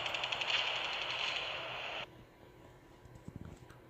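Rapid automatic gunfire from the video game World War Heroes rattles steadily for about two seconds, then cuts off, leaving a quieter game background with a few faint clicks.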